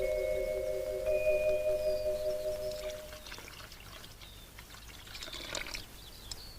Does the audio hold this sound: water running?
yes